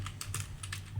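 Quick clattering keystrokes on a computer keyboard, a short burst of close, light clicks with no one speaking.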